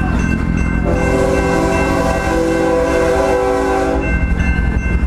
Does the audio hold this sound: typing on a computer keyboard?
no